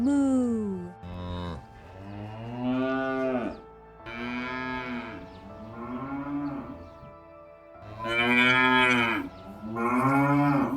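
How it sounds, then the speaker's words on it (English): A cow moos repeatedly in a long series of drawn-out, loud calls with short pauses between them. The lowing is clear and close, and no speech is heard over it. "A cow says,"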